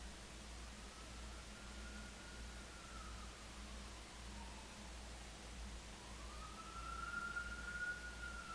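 A faint distant siren wails and slowly rises and falls over a steady hissing noise bed, rising a little louder toward the end, with no talk.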